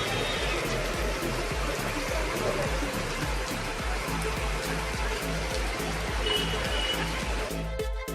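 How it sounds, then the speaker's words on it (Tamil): Heavy rain pours on flooded roads in Hyderabad, a dense continuous hiss of falling water and splashing with rhythmic low thuds beneath, ending in a brief cut. "தெலங்கானா தலைநகர் ஹைதராபாத்தில் தொடர் கனமழையால் சாலைகளில் வெள்ளம் சூழ்ந்தது."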